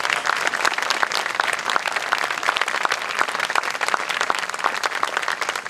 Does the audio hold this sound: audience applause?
yes